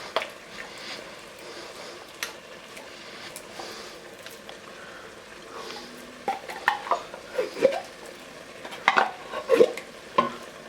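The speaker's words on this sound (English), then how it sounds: "Let's go ahead and mix our sauerkraut in there before we put the soup in" Sauerkraut being mixed into a pork casserole in a pan, with soft wet squishing and a scatter of utensil clicks and scrapes that turn busier and louder toward the end, close by.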